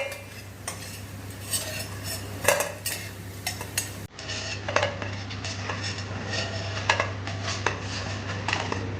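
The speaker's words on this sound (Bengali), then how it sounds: "আর এই দেখো মুচমুচে ভাজা আমার একদম রেডি। এবার এটাকে তুলে নেবো।" Metal utensils scrape and clink against a pan while lifting out crispy fried food, soft irregular scrapes and taps over a steady low hum, with no talking.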